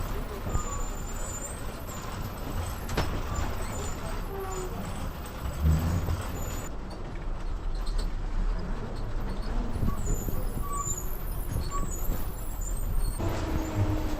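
A public bus travelling through dense hill forest makes a continuous engine rumble and road noise, with air-brake hisses and rattles, heard from inside beneath a voice talking.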